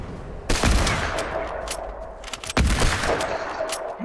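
Gunfire in the Fortnite video game: two loud, close bursts of rapid shots, one around half a second in and another near two and a half seconds, with lighter firing between them and game noise underneath.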